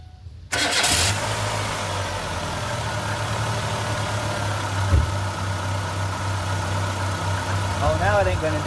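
A 2001-2004 Kia/Hyundai 1.6L engine cranks and catches just after the start, then settles into a steady, close, droning idle with a faint squeal and a brief bump partway through.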